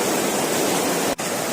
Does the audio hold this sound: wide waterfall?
yes